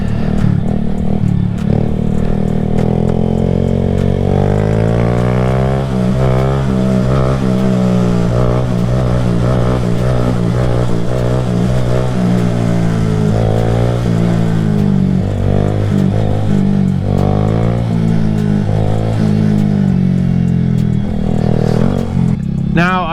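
A small Honda Grom motorcycle rides through traffic in Washington, its engine droning steadily and loud throughout with shifting revs, while a voice may talk over it.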